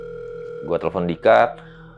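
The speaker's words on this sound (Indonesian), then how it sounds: "aku telepon Dika" A telephone call's ringing tone plays steadily for about two seconds, with brief speech-like sounds breaking over the middle.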